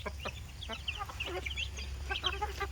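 Hens cluck and chatter in short bursts during feeding over a low steady hum, several birds close by, with no voices.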